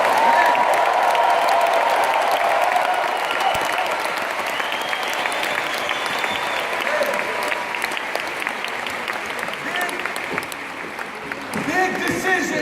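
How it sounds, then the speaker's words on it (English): A national convention audience gives the speakers a big round of applause, dense sustained clapping from a large crowd that fills the room, easing slightly before picking up again near the end. "Can we give all the speakers a big round of applause?"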